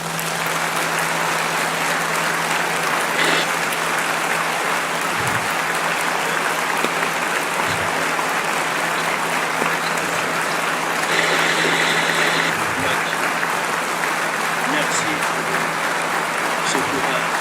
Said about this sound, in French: Regardez comment les gens ont applaudi à la fin.